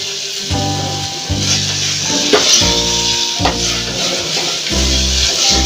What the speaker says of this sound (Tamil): அது வரைக்கும் நம்ம நல்லா ஃப்ரை பண்ணணும்